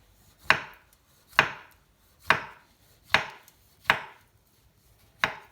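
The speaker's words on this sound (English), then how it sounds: "Then thinly slice." A knife thinly slicing a peeled orange on a cutting board, six crisp chopping strokes at a steady, slightly uneven rhythm, each a sharp close thud with no talking.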